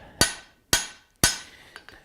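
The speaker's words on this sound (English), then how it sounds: "I'm tilting the hammer as I'm working." A hammer striking metal in a shop, worked at a tilt: three sharp, ringing blows at an even, unhurried pace, followed by two lighter taps, close and alone.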